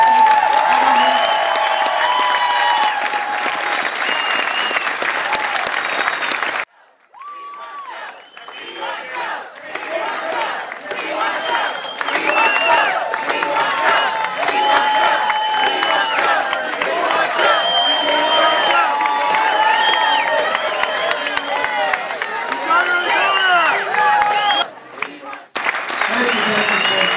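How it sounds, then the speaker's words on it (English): A large crowd at a Democratic caucus countdown rally in Des Moines cheers, whoops and applauds loudly and continuously, with a brief lull partway through before the roar swells again. "What a crowd!"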